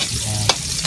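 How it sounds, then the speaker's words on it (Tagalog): Spaghetti sauce bubbling and sizzling in a pan, a constant close frying hiss with one short clink of a utensil midway, no speech. "nagluluto na tayo ng sauce ng spaghetti"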